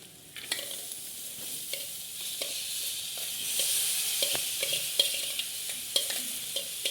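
Boiled green gram goes into a frying pan and is stirred, giving a soft continuous sizzle broken by repeated scraping and clinking strokes of a spoon against the pan, moderately close and with no voices.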